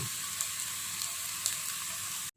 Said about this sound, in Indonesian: masih kita menggunakan minyak sayur kita menggoreng tempe